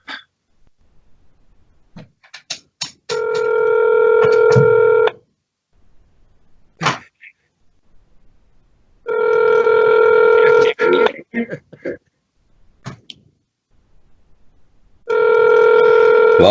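A phone call goes out with brief dialing tones, then a loud repeating ring tone in long bursts separated by pauses, while people talk quietly between the rings.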